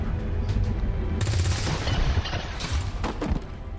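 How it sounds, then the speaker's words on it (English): Gunfire in the XCOM 2 video game: a dense, loud burst of rapid shots and booming impacts packed into a few seconds, with sharp cracks near the end. "Did you just shoot him in the crotch?"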